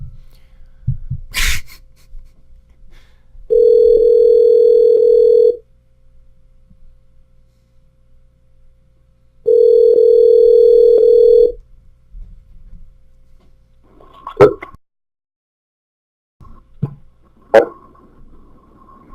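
Telephone tone on a prank call, heard as two steady, loud two-second tones separated by quiet, followed by a few faint clicks and handling noises.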